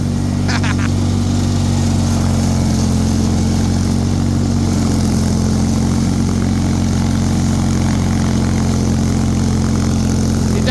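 A Bolens HT23 garden tractor engine drones steadily and loudly throughout while snow blowing in heavy deep snow, a constant low rumble with a brief rattle early on.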